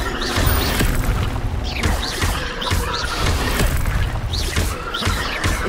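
Spell casting in Hogwarts Legacy, a dense loud mix of magical whooshes, mechanical clanks and booming impacts running continuously throughout combat.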